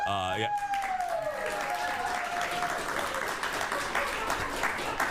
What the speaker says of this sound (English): please hold your applause until the ride comes to a complete stop